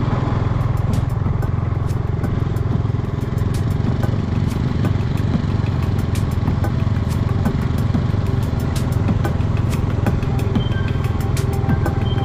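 A motorcycle engine drones loudly and steadily throughout, close up and with no talk, on a ride through Upper Mustang, Nepal, at about 3,810 m altitude where the bikes ford a river that has no bridge.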